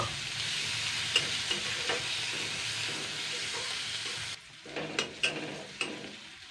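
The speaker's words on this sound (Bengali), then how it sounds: "এবার আমি পেঁয়াজ কুচানোটা দিয়ে দেবো পেঁয়াজটা আমি দুই তিন মিনিট ভেজে নেব" Chopped onions frying in a pan with dried chillies give a steady close sizzle and hiss, broken by a few stirring scrapes, and the sizzle drops quieter partway through.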